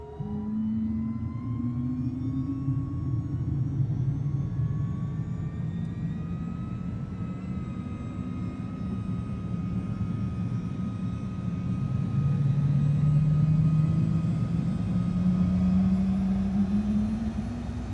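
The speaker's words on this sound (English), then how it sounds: "So we're gonna switch the engine to run." Cirrus SF50 Vision Jet engine starting up in a flight simulator: a steady roar with rising whine tones that gradually climb in pitch as the engine spools up, continuous and fairly loud, without speech.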